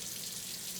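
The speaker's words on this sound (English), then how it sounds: "Okay, now turn our water on," A kitchen sink tap runs water while pots and pans are being washed, giving a steady soft hiss of flowing water heard alone at close range.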